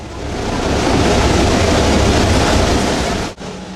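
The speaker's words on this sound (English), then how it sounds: "The gear-gripping cog train climbs over spectacular Jacob's Ladder and emerges above timberline across the cone of Mount Washington" Cog railway train climbing Mount Washington over Jacob's Ladder, a loud steady rumbling roar of gears and wheels that cuts off abruptly near the end.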